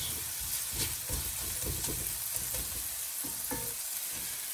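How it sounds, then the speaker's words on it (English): Onions sweat and fry slowly in a pan, giving a steady, close sizzle with soft crackles and occasional stirring scrapes. "you want to let those onions just slowly sweat down and they start going soft"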